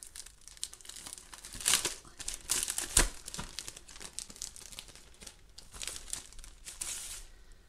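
Acrylic paper is pulled from its plastic packaging, making continuous close crinkling and crackling with sharper louder bursts as the wrapper is handled, and no speech over it.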